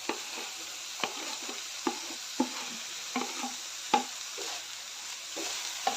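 Fried potato slices stirred into gravy in hot oil for a potato bhaji made without onion or garlic: soft sizzling under regular spatula knocks against the pan, roughly one every half second or so, heard close.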